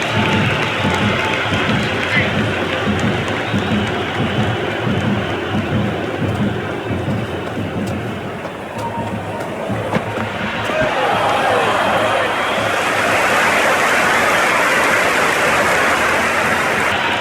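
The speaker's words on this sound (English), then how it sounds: "It's the most enthusiastic crowd you could ever see right now. There's a buzz, a real buzz coming from the stands." A large stadium crowd in the Cricket 26 video game during an India versus New Zealand T20 match keeps up a loud, steady roaring buzz that swells toward the end, with a commentator's voice running over it.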